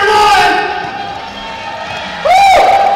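Crowd cheering and whooping at a San Jose State versus UC Davis basketball game during a Sports Chalet Super Shot halftime contest, a loud sustained roar that swells again near the end, with an announcer's voice over it.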